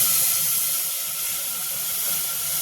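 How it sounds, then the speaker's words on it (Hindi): Water pours into masoor dal frying in a pan, giving a steady bright hiss and sizzle of steam that carries on evenly throughout. "पकने भर का हम इसमें पानी डाल देंगे"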